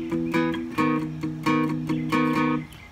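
An acoustic guitar on a patio plays an open chord shaped a half step up from E, strummed about five times in a steady rhythm, bright and close with no voice over it.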